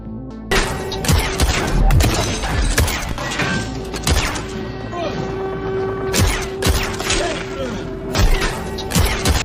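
Rapid gunfire rattles through an action film scene, dense bursts of shots and heavy impacts mixed with crashes, loud and nearly continuous throughout.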